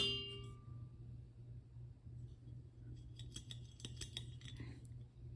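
The thin metal lid of a GSI Ketalist camping kettle is handled, giving small light clinks and scrapes that cluster near the middle and end over a low steady hum, with no talking.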